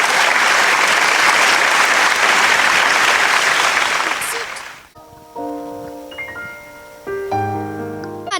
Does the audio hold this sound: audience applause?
yes